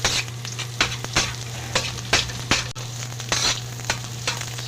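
Carrots sizzle as they half-fry in a pan before going into fried rice, with steady frying hiss and repeated scraping stir strokes over a low hum, close and fairly loud.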